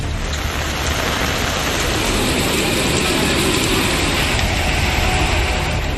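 Heavy rain pouring down in the Tiruttani area of Tamil Nadu, a dense continuous hiss that stays loud and even throughout with no other sounds.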